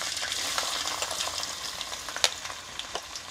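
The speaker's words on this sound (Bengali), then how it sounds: "তেলটা গরম হয়ে আসলে এর মধ্যে দিয়ে দিচ্ছি জিরা ফোড়ন, দিয়ে দিচ্ছি কুচি করে রাখা রসুন কুচি" Cumin seeds and chopped garlic frying in hot oil, giving a soft continuous crackle and sizzle with occasional small pops and a faint utensil tap, fairly quiet and close.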